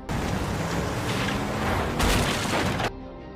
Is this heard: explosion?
yes